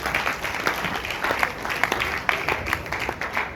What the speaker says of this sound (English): I want all of us to give a thundering applause to CopyChain